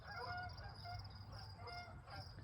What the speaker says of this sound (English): Do you hear the geese?